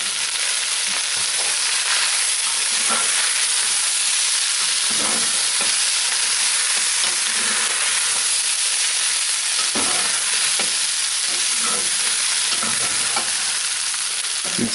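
Spicy potatoes with turmeric fry in a pan, a loud, constant sizzle broken by scraping and stirring knocks from a spoon, close up and uninterrupted by speech.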